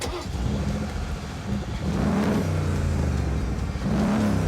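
A Mercedes G-Wagon with an AMG engine revs in a few rising and falling bursts, a deep mid-range roar that swells and eases over a steady rumble, with no talking.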